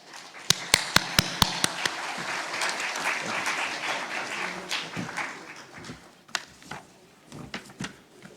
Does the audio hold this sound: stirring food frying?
no